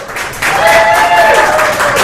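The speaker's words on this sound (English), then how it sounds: "Then give Randy a big round of applause." A room of people at a monthly networking meeting in Elk Grove bursts into a loud round of applause, dense and sustained after a brief lull, with a tonal whistle or cheer riding over the clapping.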